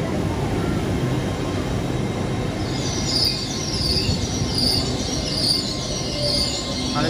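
A train runs on an overhead-wired main line through the Severn Tunnel toward Newport. A loud, continuous rumble is heard from on board, with high wheel squeals rising partway through.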